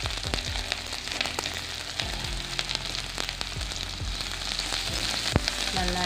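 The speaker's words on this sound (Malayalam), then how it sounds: "നമ്മുടെ ഇഞ്ചി ക്രഷ് ചെയ്ത നീരെടുത്ത ഇഞ്ചി അത് നമുക്കിതിലേക്ക് ചേർത്ത് കൊടുക്കാം." Crushed ginger fries in hot coconut oil with a dense, continuous sizzle and crackle. Sharp pops burst through it at intervals, all close and alone with no talk.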